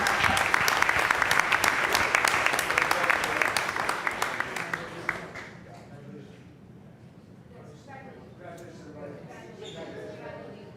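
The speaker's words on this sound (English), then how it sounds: "give them a round of applause because they surely deserve it this year" Board of education meeting audience bursts into dense, loud applause that holds for about five seconds, then thins to scattered claps as murmuring voices and room chatter take over.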